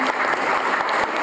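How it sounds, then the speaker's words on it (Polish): Audience applause at a seniors' gathering in Lubin, a dense, steady patter of many hands clapping at once for the whole short stretch, fairly loud and with no voices over it. "Duże brawa."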